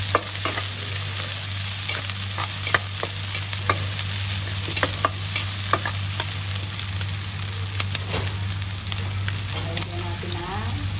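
Peanuts sautéing in a pan, likely over oil after browned onions, while cooking fish kare-kare; a steady close sizzle with frequent stirring scrapes and clicks, mixed with a constant low hum and no talk.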